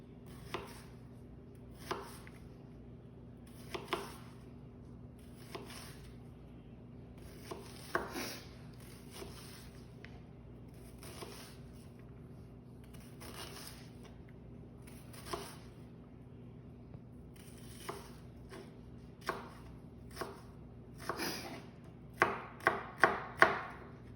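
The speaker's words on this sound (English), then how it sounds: "So you want to dice it real small and thin." A knife dices an onion on a cutting board, with sparse, irregular chops at first that quicken into a fast cluster of sharp taps near the end. The sound is close and fairly quiet, and no one speaks.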